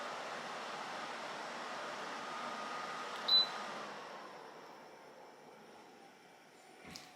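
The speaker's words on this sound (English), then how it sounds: "and the fan is at level 4" Electric fan running at level 4, a steady broadband whooshing hiss of moving air that holds evenly and eases slightly toward the end, with a brief click midway and a small knock near the close.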